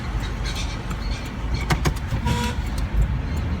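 Car horns honking in street traffic: a short toot rises over the steady rumble of nearby engines, heard from inside a vehicle.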